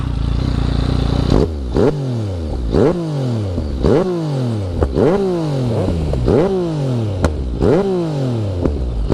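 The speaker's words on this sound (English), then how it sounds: "Full Acra system on it to see what this sounds like" A 2014 Yamaha MT-09 motorcycle with a full Akrapovic exhaust system revs up sharply again and again, about seven loud close blips that fall back each time, with crackling pops between the revs.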